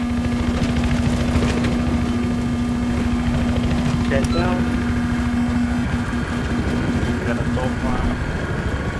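Helicopter in a multiplayer shooter match: a steady droning rotor and engine hum runs throughout with a constant tonal whine, while players talk over it.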